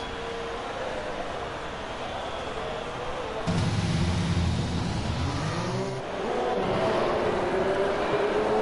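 Racing car on its out lap in a racing video game at a Mexico circuit, a steady engine drone with shifting pitch as it weaves left and right, growing louder after a few seconds.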